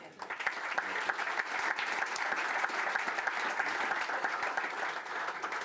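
An audience claps steadily as Robert Kraft is welcomed onto the stage at a Harvard i-lab sports innovation kickoff, a warm, sustained round of applause from a seated crowd.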